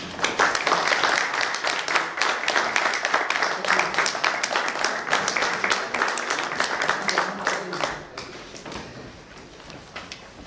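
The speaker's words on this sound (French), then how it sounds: "Je crois qu'on peut les applaudir." Steady audience applause at a municipal council meeting, many hands clapping at once, fairly loud and dense, thinning out and fading toward the end.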